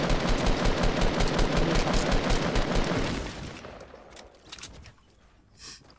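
Rapid bursts of automatic gunfire crackle loudly in a Fortnite match, a dense stream of shots for about three seconds before fading into scattered, quieter pops.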